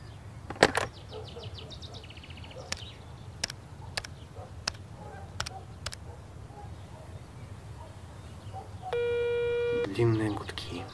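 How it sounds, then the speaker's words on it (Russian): After scattered clicks and taps, a single long telephone ringback tone sounds near the end, steady and moderately loud. "Длинные гудки."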